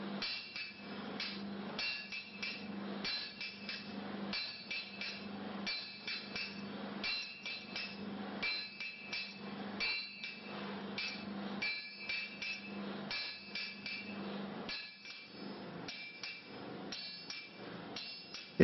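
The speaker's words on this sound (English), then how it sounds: "the blade is forged from both sides at the same time" A hammer strikes a forming die on an anvil, forging the fuller into a sword blade from both sides at once; rapid, regular metallic blows ring out close and loud throughout, with no talk.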